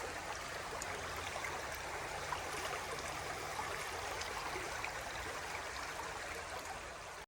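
River water flows steadily in a soft, continuous rush and trickle, fairly quiet and even throughout, with no voices.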